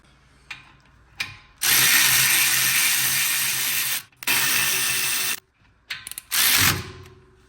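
A wrench ratchets on the front brake bolts of a Porsche Cayenne Turbo 958 during a rotor and pad replacement, giving loud, close, repeated clicking bursts separated by short pauses.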